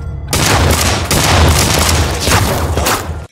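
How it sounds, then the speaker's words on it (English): Gunfire in a Western-style shootout from the Fallout TV series, a loud, dense burst of shots and booming impacts filling several seconds before cutting off abruptly. "That's just an old-fashioned shootout right here."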